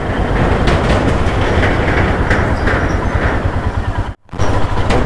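A vehicle rattles and clatters across an old bridge in Jammu & Kashmir's Bhaderwah valley, a loud, continuous rumbling clatter that cuts out abruptly near the end, then resumes.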